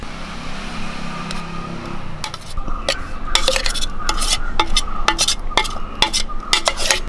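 Crushed coconut stirred into chopped beetroot with a spoon in a pan, giving a run of sharp scraping clicks against the metal over a steady low background, close and fairly loud.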